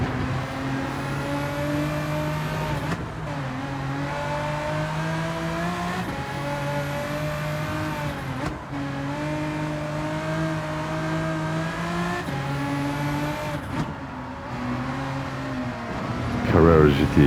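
Engine roar from a Porsche Carrera GT racing a Lamborghini Aventador in Gran Turismo 7, a continuous revving drone that climbs through repeated gear shifts, with a brief tire squeal near the end and a voice talking over it.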